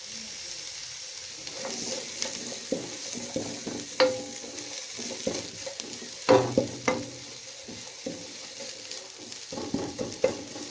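Steady frying sizzle of onions with ginger-garlic paste, with repeated scraping and clinking as they are stirred in a pan, spoon strikes coming irregularly throughout.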